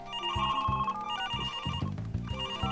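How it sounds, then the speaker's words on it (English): A telephone rings in the call-centre video game Smooth Operators: Call Center Chaos, giving a repeated electronic ring in several bursts, loud and clear with no voices. "Ah yes, the phone's ringing."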